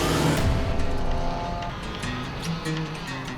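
Stock cars race past at the finish line of a pure stock event, loud roaring engines sweeping by with a fading pass and a faint tire squeal, under distant crowd noise.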